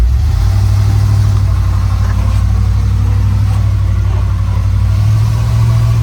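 A U-Haul dump truck engine idles steadily with a loud, constant low rumble and even drone throughout, no speech.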